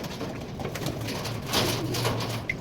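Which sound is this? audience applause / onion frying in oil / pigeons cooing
pigeons cooing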